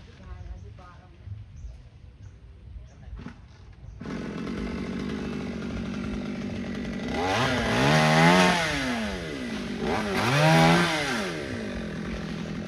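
A chainsaw starts up, idles roughly, then revs hard twice as it bites into a Sao tree, cutting a section about 5 metres long, the engine pitch rising and falling with each cut, close by.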